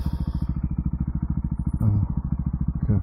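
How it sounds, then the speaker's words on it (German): Husqvarna 701 single-cylinder motorcycle thumping steadily while riding, a loud, even pulsing engine note close up with a couple of brief clatters. "dass man mal ein halbes Stündchen Moped fahren kann"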